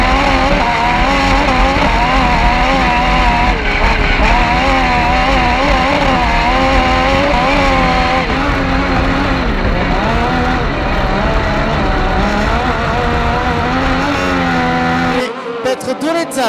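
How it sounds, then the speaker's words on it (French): At an autocross race in St Igny de Vers, France, race cars launch together in a continuous loud engine roar with rising, shifting notes; an announcer talks over it, and the noise cuts off sharply near the end. "c'est parti pour Petr de Letzal, peut-être à l'intérieur. Le meilleur de part pour le pilote tchèque"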